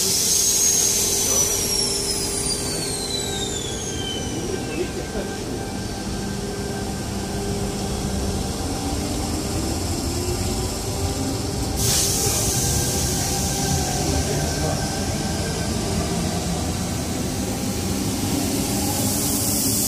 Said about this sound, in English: Now departing platform 2.